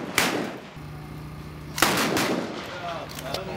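Sharp, loud gunshots from shooters at a fast draw competition at a fair: one crack near the start and another at about two seconds, each followed by a ringing echo, with a faint crowd murmur between them.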